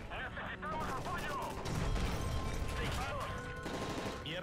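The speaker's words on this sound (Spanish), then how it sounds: "Son disparos." Rapid gunfire in the Call of Duty: Modern Warfare 3 campaign aboard a hijacked plane, bursts of shots under shouting voices and clattering action, fairly quiet in the mix.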